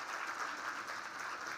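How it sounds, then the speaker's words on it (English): An audience at a women's impact event gives a round of applause, a continuous, even spread of many hands clapping, heard faintly and from a distance. "that deserves a round of applause"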